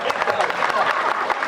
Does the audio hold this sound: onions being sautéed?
no